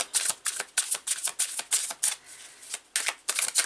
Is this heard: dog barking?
no